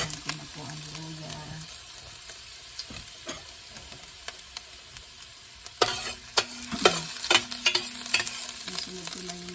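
Ginger frying in a pan for ginataang laing with dried anchovies, a steady sizzle with utensil scrapes and clinks, growing busier toward the end, with a faint voice in the background.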